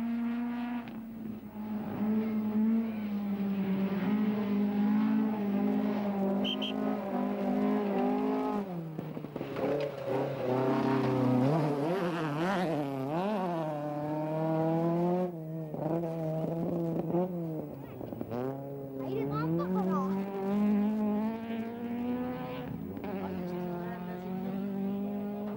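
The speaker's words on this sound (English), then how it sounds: "We pick up on the now fourth-placed Ford as Pond pilots the Sapphire through this unique stage." Tony Pond's Ford Sierra Sapphire RS Cosworth rally car attacks a stage at the 1990 Wesbank International Rally, its engine loud and close, revving up and down repeatedly through gear changes with no let-up.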